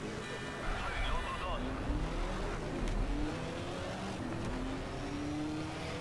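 Race car engine in Need for Speed: Shift, a Mustang, droning steadily with rising pitch sweeps as gears shift, loud and continuous with a voice speaking over it.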